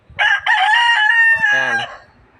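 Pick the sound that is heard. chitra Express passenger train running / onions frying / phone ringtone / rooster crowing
rooster crowing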